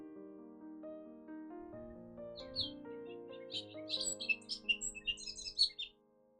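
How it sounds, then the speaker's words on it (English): Bobolink song with bubbly, tumbling high notes building toward the end, over a soft background of sustained musical tones. "This is a bobolink."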